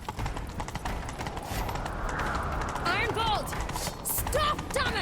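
Rapid rhythmic hoofbeats of a galloping horse in the video game The Witcher 3 run steadily under loud talk, with a few whooshing effects near the end.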